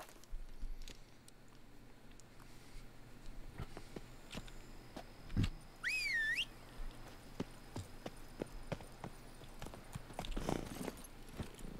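Horse hooves clip-clopping in a video game, a faint run of irregular hoof taps with a short whistling chirp and a brief snort-like burst partway through.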